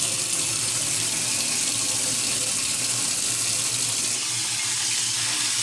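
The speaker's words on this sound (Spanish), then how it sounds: "lo que hago aquí es lavando un poquito el sartén" Tap water runs continuously into a frying pan during washing, a close, loud, even splashing hiss with no breaks.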